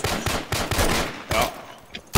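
Rapid gunfire in the video game Insurgency, a string of loud, sharp shots in quick bursts across the whole moment, close and punchy with brief gaps between volleys.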